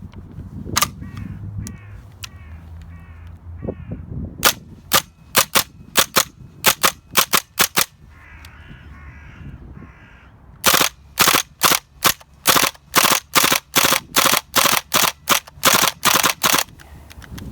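A WE MP5 A3 gas blowback airsoft gun fires a long string of sharp semi-auto shots, each a loud, snappy crack. The shots come in uneven clusters with short pauses, then a faster steady run near the end.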